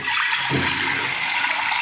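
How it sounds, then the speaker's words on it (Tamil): Water runs steadily for a couple of seconds into a cooker, a continuous close-up splashing pour with no talking. "இதில் கொஞ்சம் தண்ணி ஊற்றிக்கலாம்."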